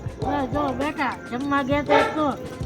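Dogs bark repeatedly in quick, rising and falling yelps and bow-wows, about eight calls close together, loud and near, sometimes overlapping.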